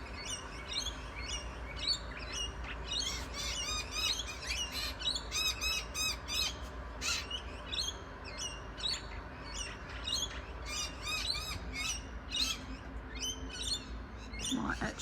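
An Indian myna gives repeated harsh, rasping alarm calls and squawks in rapid bursts, fairly close, continuing insistently over a quiet background.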